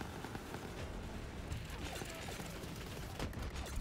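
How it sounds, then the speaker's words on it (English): Dense, crackling gunfire in a video game, with bullets ricocheting in rapid overlapping pops and pings that form a continuous noisy barrage. "This is gonna ricochet a lot of bullets around."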